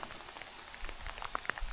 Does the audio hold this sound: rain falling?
yes